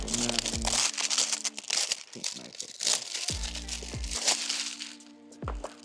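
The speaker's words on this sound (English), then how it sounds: "Get some of this plastic off." Plastic packaging being pulled and crinkled off a Ulanzi SC-02 camera accessory box, loud close crackling and tearing in repeated bursts, with a voice heard briefly.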